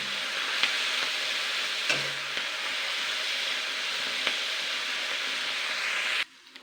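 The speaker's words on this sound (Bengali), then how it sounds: "আমি শাকটা কিন্তু জাস্ট 5 মিনিট ধরে নাড়াচাড়া করে নিয়েছি।" Chechi shak greens stir-fry in a pan with a steady, loud sizzle that runs nearly unbroken, marked by a few faint scrapes of stirring before cutting off abruptly near the end.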